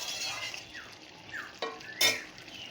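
Pumpkin, potato and crab curry with sugar being stirred in a pan, a soft sizzle under several quick scraping strokes of a spatula and a sharp metallic knock near the end.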